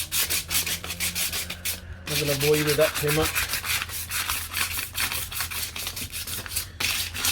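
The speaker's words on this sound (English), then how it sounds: "Just lightly sanding it back, and then we're going to hit it with" Fine-grit sandpaper rubbed lightly over the paint of a VW Golf, a steady scratchy back-and-forth rasp close to the surface, with a short pause and a brief bit of talk partway through.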